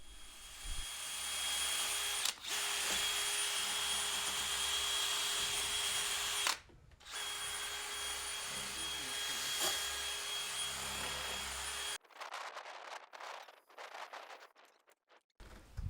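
A wire brush scrubs steel on a Frick sawmill, a steady, loud, close whir that runs almost without a break for twelve seconds, with two brief dips, then gives way to scattered quieter clicks and handling noises.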